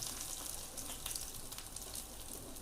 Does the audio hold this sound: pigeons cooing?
no